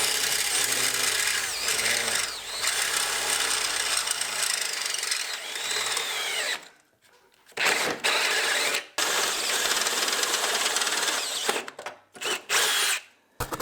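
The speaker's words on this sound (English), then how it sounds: "We have to drill a hole underneath" A power drill whirs loudly and continuously, drilling a hole in the underside of a lawn mower tank, with brief pauses and restarts near the end.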